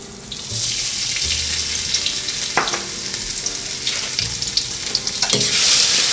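Salted fish stir-fried in a wok of hot oil left over from an earlier step, with a steady loud sizzle broken by sharp scraping strokes of the spatula.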